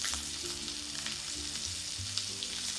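Oil heating in a frying pan for a French steak, giving a faint, continuous sizzle and crackle with small pops and low clattering kitchen sounds underneath.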